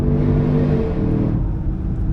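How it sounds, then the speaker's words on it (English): A tuned 800 hp Land Rover Defender OCTA accelerates hard on the Nordschleife, its exhaust a loud, close, continuous roaring rumble that eases slightly toward the end, with no distinct pops standing out. "Wow, that was my exhaust."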